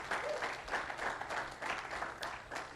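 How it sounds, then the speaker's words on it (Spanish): A church congregation applauds in steady, scattered clapping that continues throughout, moderately distant and soft, with no talking over it. "Alguien que dé un aplauso al Señor en esta mañana."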